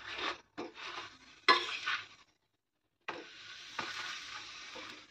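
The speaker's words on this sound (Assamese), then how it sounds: "অকণমান আচলতে তেল দি পেলাই ভাজিছোঁ মই।" Roti frying in a little oil in a pan, with sizzling bursts and stirring or scraping sounds that stop briefly before the sizzle resumes, close by and fairly loud.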